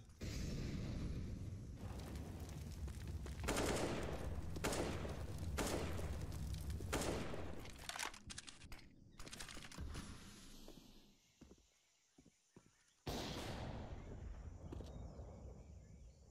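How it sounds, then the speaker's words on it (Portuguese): Counter-Strike match gunfire: bursts of rifle shots and sharp impacts crackle across a busy game soundtrack, dropping into a near-quiet gap before a loud burst returns, with no clear talking. "O Taco ele só atirou ali na noção mesmo."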